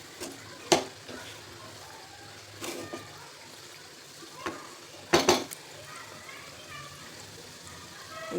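Mango modak mixture stirred in a pan over a low flame, with scattered utensil scrapes and clinks against the pan under faint background sizzle, a few sharper knocks standing out.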